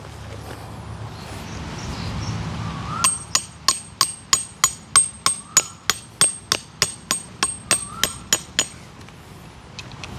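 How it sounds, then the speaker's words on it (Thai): A steady run of about eighteen sharp metallic hammer strikes with a ringing clink, evenly paced, as tent stakes are driven into the ground, following a few seconds of quiet outdoor ambience. "แล้วเราก็มาตอกสมอด้านข้างนะครับ"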